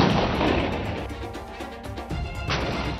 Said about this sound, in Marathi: The gun which is being displayed here is 155 mm Bofors.